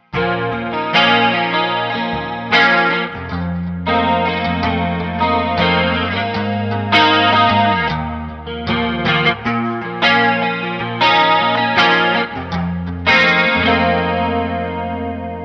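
Shimmering electric guitar through an Ensemble King chorus pedal plays a continuous run of chords and notes, thick and wavering, with no talking.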